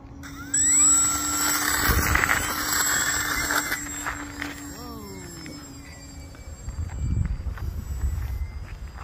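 A Hobbyking 750mm Hawker Hurricane RC model plane's electric motor whines up sharply at takeoff, a loud high buzzing that shifts pitch as the plane pulls away and fades, with outdoor noise afterward.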